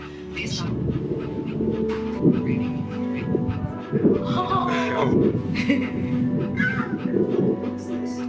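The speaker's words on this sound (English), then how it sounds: "That is a dog." A dog in the video game That Dragon, Cancer pants and whimpers in short high whines over a humming background score, with a voice speaking partway through.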